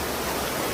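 Strong river current rushing past, a dense, even wash of water noise filling the short moment, close and steady with no voices.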